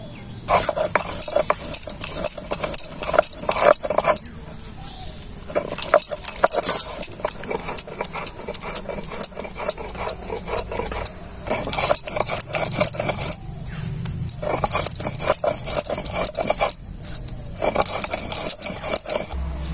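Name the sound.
grinding fried spices on a shil-nora grinding stone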